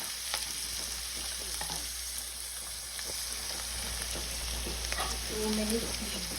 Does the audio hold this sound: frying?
yes